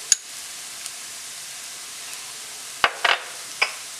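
Onion, green chilli and ginger masala cook quietly in a pan with a soft, faint sizzle, punctuated by several sharp clinks and scrapes of a spoon near the end.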